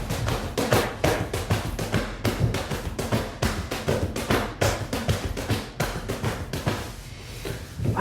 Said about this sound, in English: The classic Hambone rhythm that people think of sounds like this.